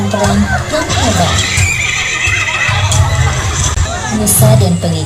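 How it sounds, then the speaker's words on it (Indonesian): Horses of Pharaoh's army in a staged cabaret drama, loud neighing and whinnying over clip-clopping hooves and background crowd noise, continuous throughout. "Fir'aun dan pasukannya menyusul Nabi Musa dan Bani Israel dengan menunggangi kuda dan peralatan perang yang hebat"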